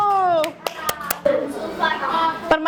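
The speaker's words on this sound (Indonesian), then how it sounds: "Kasih tepuk tangan dulu." A class of children in a classroom clapping on request: scattered sharp claps and a short burst of clapping, with a voice and children's chatter around them.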